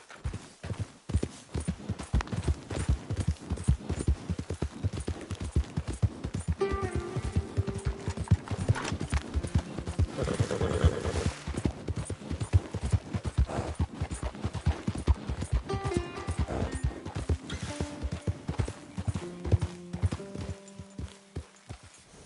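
Horse hooves clatter in a steady, rhythmic gallop in Red Dead Redemption II, close and continuous throughout, with occasional game music tones and snorts layered beneath the pounding clip-clop.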